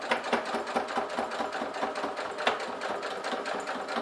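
A sewing machine stitches a fabric glasses case in fast, even needle strokes, close and steady throughout with no break and no talk.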